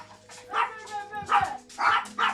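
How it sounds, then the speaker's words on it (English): Several dogs barking excitedly at home as someone arrives: short, sharp barks and yips in uneven bursts, fairly close, with a faint steady tone in the background. "The dogs are excited."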